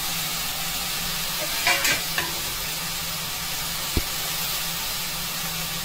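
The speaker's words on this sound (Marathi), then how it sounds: "आता ह्या भाज्या थोड्याशा परतवून घेतल्यात मी" Vegetables with green masala, spices and salt sauté in a pan, giving a constant soft sizzle and hiss, with a few brief spoon scrapes and one sharp clink near the end.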